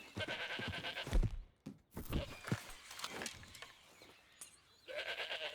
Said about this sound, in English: Alpine goat. Alpine goat.